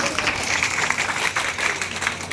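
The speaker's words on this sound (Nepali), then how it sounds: "ताली बजा दो इसके लिए" An audience at a youth camp in Haridwar applauds in a steady, continuous wash of clapping throughout, moderately loud and fairly close.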